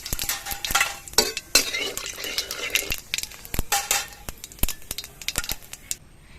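Whole cumin seeds crackle and sizzle in hot mustard oil while a metal spoon scrapes and clinks against the pan, close and irregular, with no talking.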